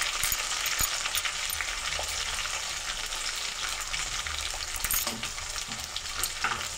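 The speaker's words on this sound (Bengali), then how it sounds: "ভাজা চলছে।" Tomato sizzles in a little hot oil with cumin, coriander, garlic and ginger paste for a country chicken curry. A steady crackling fry is broken by occasional clinks and scrapes of stirring.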